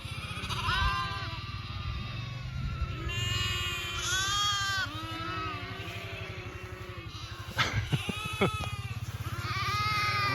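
A mixed flock of sheep and lambs bleats repeatedly on a farm, overlapping calls near and far, with a low engine rumble underneath.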